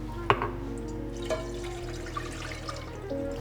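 Milk and cream are poured into melted sugar in a pan for butterscotch pudding, giving a soft, steady liquid pour with faint splashing over low background hum, close and quiet, with no talking.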